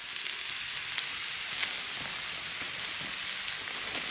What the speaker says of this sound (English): Heard a sizzle there.